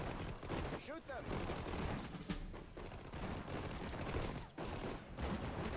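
Battle sounds from Sudden Strike 4, a World War II Normandy campaign strategy game: scattered rifle and machine-gun fire with distant explosions, fairly quiet, mixed with unit voice acknowledgements.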